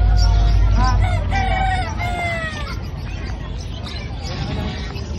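A rooster crows among chickens and ducks at a backyard poultry yard, a near, loud call over background chatter and clucking.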